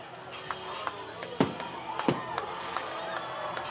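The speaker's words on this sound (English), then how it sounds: "Let the fireworks begin." Fireworks bursting over a high school football stadium, a few sharp booms and cracks spread over a few seconds above a steady murmur of crowd noise.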